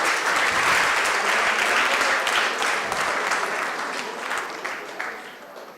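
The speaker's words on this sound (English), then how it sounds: "First of all, give him a round of applause." Applause from an audience at a live hackathon event, a continuous wash of many hands clapping that slowly thins and fades toward the end.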